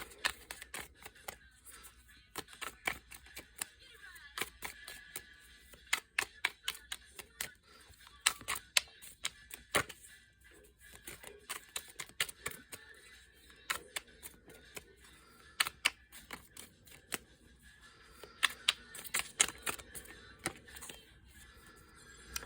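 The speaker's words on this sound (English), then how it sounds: "Grab my cards and we'll do some shuffling." Crisp, rapid riffling and tapping of tarot cards in repeated bursts, close and fairly quiet, with brief pauses between shuffles.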